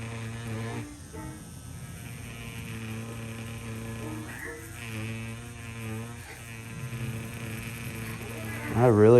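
Buzzing hum of a tattoo machine driving its needle into fake practice skin, a steady electric whine with harmonic tones that shifts slightly as the needle presses, rising briefly louder near the end.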